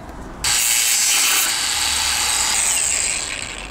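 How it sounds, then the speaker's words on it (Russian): A power saw cuts through material, beginning abruptly with a loud, sustained rasping whine that holds steady and then tapers off toward the end, heard close up with no voices. "Вообще нормально пилит."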